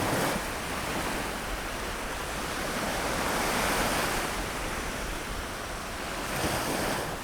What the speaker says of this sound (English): Yep, those are waves. That's what it sounds like when you go to the beach.